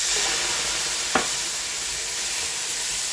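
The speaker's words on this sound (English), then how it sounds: "Just a splash for that sizzle." A splash of water added to a hot pan of chili-spiced potato dumpling mixture, a broad steady sizzle and hiss with one short knock partway through, close and fairly loud, with no voices.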